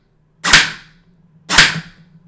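A Rat King airsoft replica modeled on the Destiny 2 sidearm fires two single shots about a second apart, each a sharp, close crack with a brief decaying tail over a faint mechanical hum.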